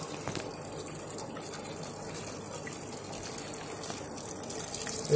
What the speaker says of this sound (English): it's spinning around like a drain, and it was right full up before, so, and it's filled it right back up